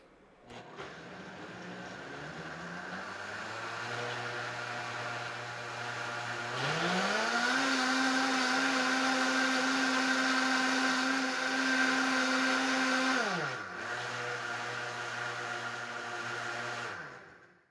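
A Vitamix Ascent A3500 blender runs its cleaning preset on water and a few drops of dish soap, a steady motor whir that ramps up to a higher pitch, holds, then drops back down before stopping.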